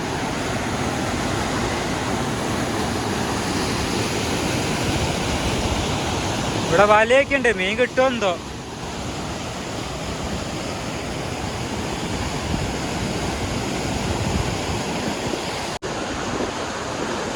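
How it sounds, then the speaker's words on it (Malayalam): A river in a Tamil Nadu village rushes strongly over rocks in a steady, loud roar of water. A voice cuts in briefly partway through. "വളരെ ശക്തിയിലായിട്ടാണ് വെള്ളം പോണത്"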